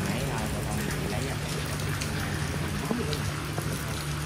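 Heavy rain pours steadily outdoors at a stage-building site, a dense continuous hiss with occasional louder drops, while people talk underneath.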